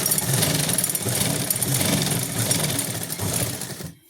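Sewing machine stitching a pant pocket, running in a fast continuous mechanical whir with a rapid needle rhythm, loud and close, stopping abruptly just before the end.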